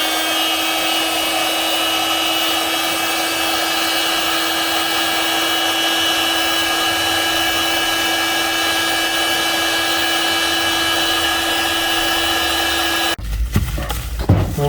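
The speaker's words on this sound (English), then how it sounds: "We'll get the heat gun onto that, dry that one up, and then do another coat." Heat gun running continuously up close, a steady whirring blow drying a repaired crack on a Jaguar X300 XJ6, cutting off abruptly near the end with some handling clatter.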